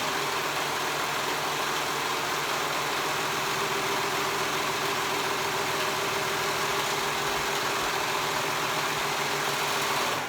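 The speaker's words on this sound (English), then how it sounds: "Now I'm gonna sew that shut." A sewing machine stitches a strap shut on a summer cover-up garment, giving a steady, continuous whirring motor hum with a fine vibration that runs unbroken for about ten seconds at moderate loudness.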